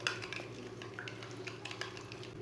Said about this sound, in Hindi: अब दोनों चीज़ों को अच्छी तरह मिक्स कर लेंगे